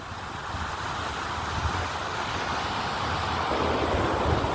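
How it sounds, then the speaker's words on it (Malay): Strong sea waves and wind along a beach: a continuous broadband rushing roar of surf that swells louder toward the end, with no voices. "Ah tengoklah ombak kuatlah."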